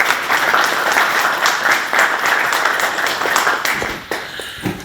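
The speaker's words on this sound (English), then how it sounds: "nice round of applause, please, for Rich Michaels." An audience at a brewing talk claps for the next speaker, a dense, steady round of applause that holds for several seconds and then thins out as it ends.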